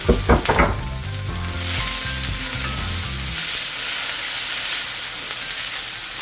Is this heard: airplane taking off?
no